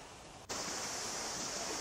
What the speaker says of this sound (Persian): فکر کنین که دارین تو آب راه میرین، صدای آب هست، پرنده ها دارن میخونن